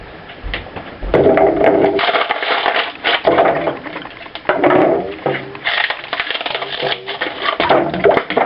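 Ice cubes are dumped into a sink of water to cool a homebrew honey ale batch, producing loud clattering, crunching and rattling bursts that repeat irregularly over several seconds.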